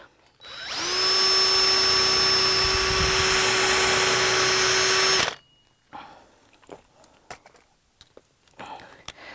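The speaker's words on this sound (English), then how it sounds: "I like to pre-drill the end grain" A power drill whines at high speed for about five seconds pre-drilling wood end grain, then stops, leaving faint clicks and handling noises.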